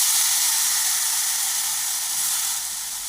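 Spiny gourd (kartule) pieces and spices hit hot oil in a pan, giving a loud, steady, bright sizzle with a hissing spray of steam that holds evenly throughout, slowly easing a little toward the end, with no voices.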